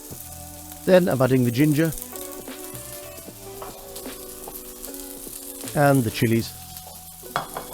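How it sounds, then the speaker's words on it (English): Beef lomo saltado stir-frying over high heat with ginger and chilies, a steady sizzle running under someone talking, with louder bursts of speech at the start and again near the end. "Stir it around, toss it, keep it moving, and it will cook evenly."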